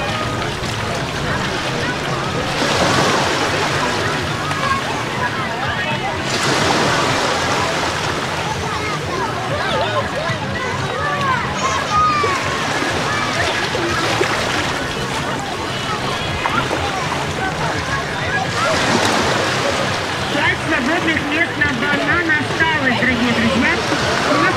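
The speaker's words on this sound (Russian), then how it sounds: "Ну и по традиции для вас море, как всегда." Sea waves at a beach in Vitiazevo on the Black Sea coast wash in broad, surging swells of noise that rise and fall every few seconds, loud and close with wind buffeting the microphone.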